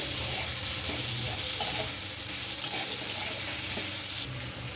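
Potatoes frying in oil left over from frying fish, giving a dense, continuous sizzle that holds steady throughout, with faint stirring clatter underneath.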